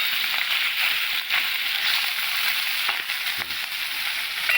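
Fish pieces frying in shallow oil in a black wok, a steady dense sizzle with faint crackles and spits, even and moderately loud with no voices.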